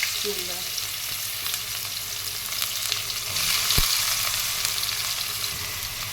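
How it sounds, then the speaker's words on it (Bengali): Onion frying in hot oil with cumin, a steady dense sizzle with occasional stirring clatter, close and fairly loud with no voices. "জিরাটা ভাজা হয়ে গেছে, আমি এখন পেঁয়াজটা দেবো।"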